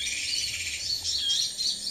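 A prinia (perenjak) calls in an outdoor birding spot, its high, thin chirping running steadily over a dense, hissing background of insect-like buzz, moderately loud and without any voices.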